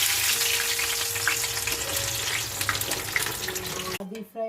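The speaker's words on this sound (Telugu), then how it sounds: "చికెన్ బిర్యానీ మ్యారినేట్ కోసము సన్నగా తరిగిన ఆనియన్ డీప్ ఫ్రై చేసుకోవాలి." Thinly sliced onions deep frying in oil for chicken biryani produce a loud, dense, bubbling sizzle that carries on steadily before breaking off abruptly near the end.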